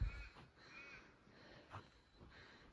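Galahs, Australian cockatoos in a pair by a river, give several harsh, scratchy calls as they take off and fly away, a short burst at the start and further faint calls spread over the next seconds at a moderate distance.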